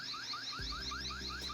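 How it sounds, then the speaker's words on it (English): A Baseus S1 Pro security camera alarm siren wails alone at steady volume, its sweeping rising tones repeating in quick cycles with a low hum underneath. "You can also manually trigger the alarm siren from here"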